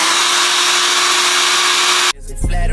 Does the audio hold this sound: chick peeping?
no